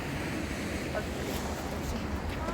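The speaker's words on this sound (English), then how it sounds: "The breeze off the ocean feels nice." Steady ocean breeze and distant surf along a seaside cliff walk, a continuous broadband wash of wind and waves with buffeting low rumble, with faint voices in the background.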